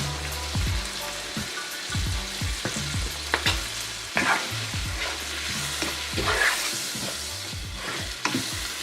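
Butter sizzles and crackles steadily in a hot pan with shrimp for scampi, a dense bright frying hiss with repeated louder bursts and low scraping knocks from stirring.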